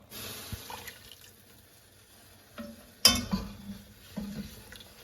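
Ladle of stock poured into a mushroom truffle risotto simmering on the stove: soft bubbling and stirring, then a sudden splashing pour and a sharp clink, followed by gentle sizzle and a few small knocks.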